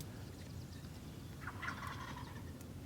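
A wild turkey gobbles once, a distant rattling call rising out of steady outdoor background noise in a food plot near a roost where toms strut with hens.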